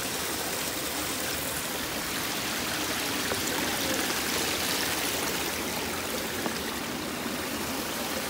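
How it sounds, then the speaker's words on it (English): A small brook on the Appalachian Trail along the Connecticut–New York line flows steadily, a continuous soft rushing and trickling heard close by with no voices. "That's just a nice brook."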